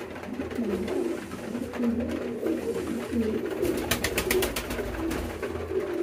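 King pigeons coo in a loft, a continuous layered rolling murmur from several birds close by, steady and moderately loud, with a brief burst of rapid fluttering or tapping midway and no speech.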